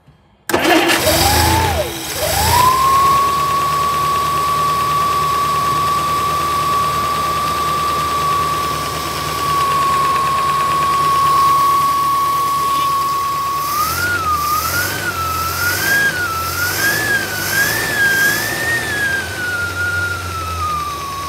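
A 1964 Studebaker Avanti R-2 engine starts, then runs at a steady, loud idle with a sustained whine. Near the end it begins to rise and fall as the revs waver.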